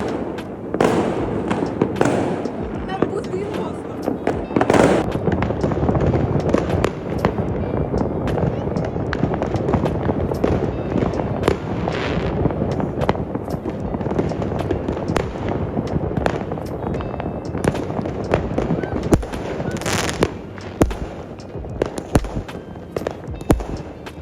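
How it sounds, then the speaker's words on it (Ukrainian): Continuous crackling and booming of fireworks going off for a long stretch in Durrës, Albania, dense bursts and pops layered together, with voices faintly audible underneath. "Бо в Албанії є традиція запускати купу салютів"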